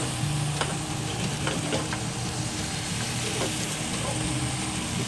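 Sea scallops sizzle steadily in a hot pan deglazed with wine, a close, continuous crackling hiss with occasional sharper pops.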